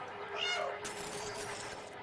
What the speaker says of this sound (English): My meow is glitching it.